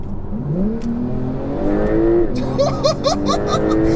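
A Porsche 911 Turbo S accelerates hard with a rising engine roar, then rapid gear shifts bark out in quick succession, loud and close.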